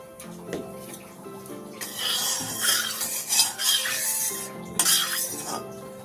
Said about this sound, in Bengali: ঘিটা ভালো করে কড়ার মধ্যে লাগিয়ে দিলাম।